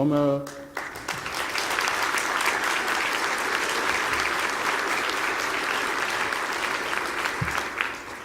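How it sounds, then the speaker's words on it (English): A conference audience breaks into sustained, even applause lasting several seconds, loud and close, following a brief voice at the start. "she really deserves the applause"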